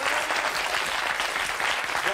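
Studio audience on a French television set claps in a steady, dense burst, close and continuous with faint voices beneath.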